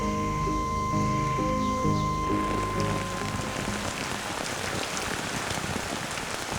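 Heavy rain pours steadily on Christmas Island during the onset of the wet season, a dense, continuous hiss of drops with a sustained tonal hum fading out after the first couple of seconds.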